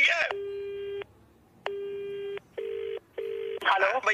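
A telephone call rings out in repeated electronic tones, each steady and several seconds long, separated by short silences, before a voice starts talking at the end.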